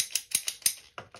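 A ratcheting pipe cutter clamps down on condensate drain pipe in a quick series of about seven sharp, close mechanical clicks over roughly a second, with no voices.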